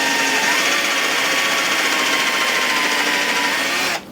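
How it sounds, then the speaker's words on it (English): A steady, high-pitched motor whine runs continuously for about four seconds as a drill with a larger bit bores out holes in wood, then cuts off abruptly at the end. "we'll switch to our bigger drill bit"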